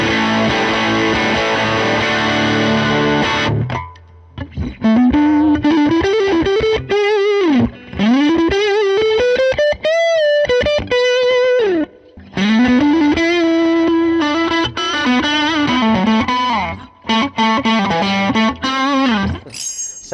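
Electric guitar played through a Fender Bassman Tonemaster amp with bright and normal channels both turned fully up, giving loud, driven, distorted chords and sustained bent lead notes that fill the whole stretch, with brief pauses between phrases.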